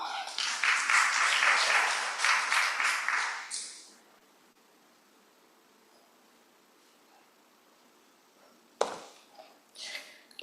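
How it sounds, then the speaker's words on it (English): An audience at a conference-day session gives about four seconds of brisk clapping that fades out. A long silence follows, then a few faint knocks and shuffles. "Ladies and gentlemen, a big round of applause for Ms."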